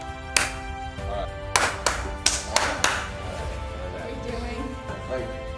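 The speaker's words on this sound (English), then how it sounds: "Clap a little higher, real fast." Hands clap in a short sequence of about six sharp, close claps, spaced unevenly over a steady background hum with faint voices.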